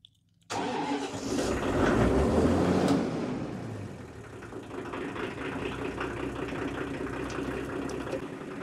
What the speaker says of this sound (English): now we're just going to back the tractor out